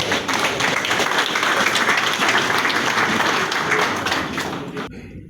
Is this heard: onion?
no